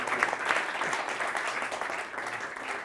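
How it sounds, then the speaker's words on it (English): An audience at a magic show applauds, steady fairly faint clapping from a crowd that holds evenly for a few seconds with no talk over it. "Let's give them a round of applause."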